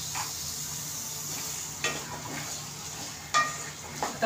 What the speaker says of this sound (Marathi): सगळं असं परतून घेते।